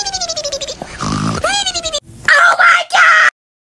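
Loud, wailing screams rise and fall in a few sharp bursts, close and piercing, with voice-like groans between them.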